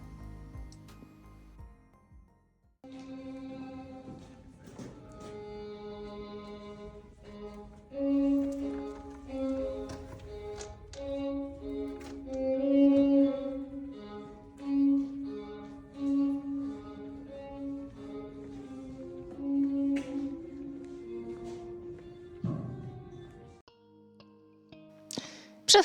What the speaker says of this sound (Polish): Przed chwilą właśnie mieliście okazję usłyszeć, jak brzmi muzyka, kiedy dojdziecie do połowy tunelu.